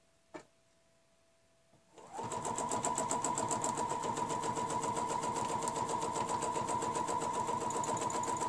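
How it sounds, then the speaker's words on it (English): A sewing machine stitching along a ruler, starting after a brief click and then running in a fast, steady, even mechanical rhythm up close, with no talking. "Lovely, consistent flow of stitching."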